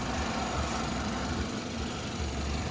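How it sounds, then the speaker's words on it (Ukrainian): A 2008 Renault Megane 2 engine idles with an even, continuous low rumble and no knocking or rattling from the cam phaser, running alone without any voices. "Моторчик працює рівненько, фазорегулятор не тарахтить"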